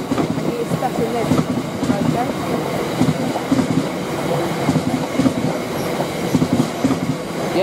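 A freight train on the Heathrow aviation fuel run rolls past close by, its wagons giving a steady, loud clickety-clack of wheels over rail joints throughout, with faint voices mixed in.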